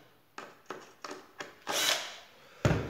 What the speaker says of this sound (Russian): Немножко подтянуть шурупы.